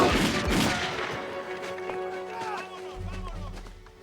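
Gunfire crackles through a jungle battle in an 1898 war scene, scattered shots and bursts mixing with running and crashing, a voice speaking amid the din and a low rumble building near the end.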